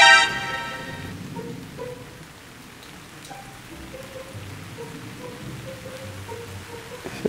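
Rain falls steadily outdoors as a soft, continuous patter of drops on surfaces, moderately close, with no voices present.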